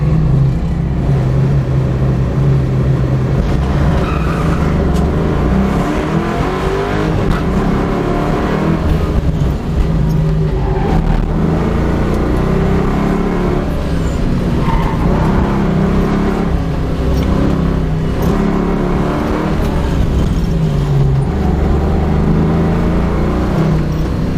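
An SN95 Ford Mustang on an autocross run at a ProSolo event, its engine roaring loud and close for the whole stretch, rising and falling with acceleration and hard cornering.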